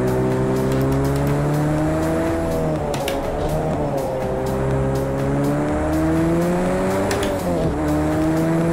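Race car in the video game Project Cars 2, its engine holding a loud rising and falling whine through gear changes as it pushes around a track, with tire squeal mixed in and no talking over it.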